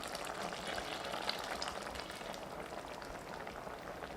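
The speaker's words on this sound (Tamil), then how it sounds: "இது கூட தேங்காய் அரைச்ச விழுது சேர்த்து ஒரு 3 நிமிஷம் நல்லா கொதிக்க வச்சுக்கலாம்" Drumstick gravy with ground coconut paste bubbling in a pan, a steady, dense simmering hiss and crackle running evenly throughout, fairly close, with no voices.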